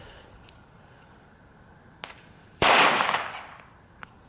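A single sharp firecracker bang bursts loudly at New Year's Eve and rings off quickly, preceded and followed by a few small distant pops, outdoors with no talking.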